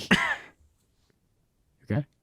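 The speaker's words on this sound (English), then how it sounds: "That's your first cough." A single short cough close to the microphone, followed by a brief pause and a second softer cough-like burst.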